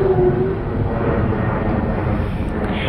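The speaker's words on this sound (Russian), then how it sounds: "А самолеты тут у нас летают вовсю." A fixed-wing airplane flies over a natural landscape, giving a steady broad engine roar that holds evenly throughout, fairly loud with no talk.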